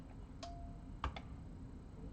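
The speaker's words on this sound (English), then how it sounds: "the clicking noise you can hear at the moment is the controller switching itself off on the different things we've just done" Relays in a building HVAC controller click as it switches outputs off, a few sharp, faint ticks spaced irregularly over quiet background hum.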